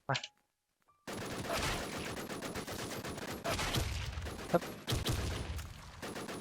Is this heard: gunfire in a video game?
yes